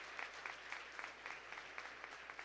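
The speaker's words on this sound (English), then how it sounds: "Can we just do a quick round of applause for these great leaders" Applause from a luncheon audience honoring young Girl Scout leaders, a steady wash of clapping with faint regular claps standing out, moderately distant and fairly quiet throughout.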